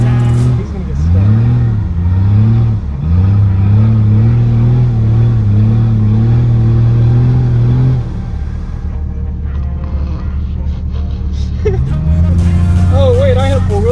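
A Jeep Cherokee XJ engine revs hard off-road in four-wheel drive, rising and falling in loud sustained surges with a brief easing before climbing again.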